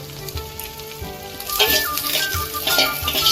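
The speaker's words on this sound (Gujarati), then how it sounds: "તો કટ કરેલી લીલી ડુંગળી આપણે નાખીશું।" Chopped green onions frying in a pan for a Kathiyawadi brinjal olo, a steady crackling sizzle that swells louder midway as they hit the hot oil, with occasional stirring scrapes and no talking.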